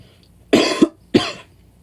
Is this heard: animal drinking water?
no